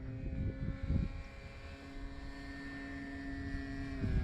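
A radio-controlled Cermark Fantasy Flyer model airplane runs its engine on a runway before takeoff, a steady, fairly faint buzzing drone with a couple of brief louder bursts near the start.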